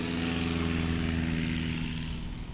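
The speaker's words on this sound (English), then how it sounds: "Oh, a good takeoff there." A STOL light propeller aircraft takes off at a short takeoff and landing competition in Ontario, Oregon, its engine droning loud and steady with a strong propeller hum that eases slightly toward the end.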